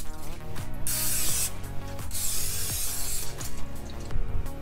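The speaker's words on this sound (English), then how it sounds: "I'll also be using my Wesley Farm non-stick cooking spray. So you just wanna go ahead and grease your pan." Non-stick cooking spray greasing a baking pan for homemade cinnamon rolls: several loud, close hissing bursts of aerosol spray separated by short pauses and light clatter.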